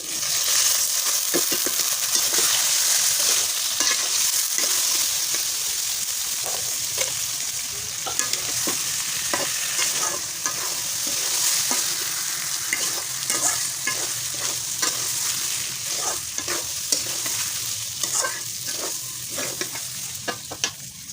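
Washed rice being stirred in a pot for khichuri, with a steady sizzle and fry under repeated scraping strokes of a spatula, continuous and close for about twenty seconds, no talking.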